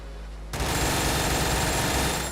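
Cursed AK rifle in the video game Peripeteia firing a single trigger pull that erupts into a sustained, dense burst of loud gunfire filling the clip.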